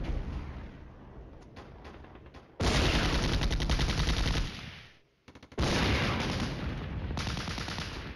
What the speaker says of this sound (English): the artillery's still falling on that position